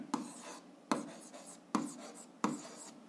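Pen writing out the answer to a 7th-grade algebra exercise on paper, four quick scratchy strokes in a regular rhythm, close and quiet with no talk.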